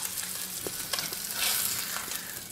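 A sous vide chuck eye steak sears in a hot pan with butter, giving a continuous close sizzle and crackle with small pops and a brief louder surge of spitting fat, no talking.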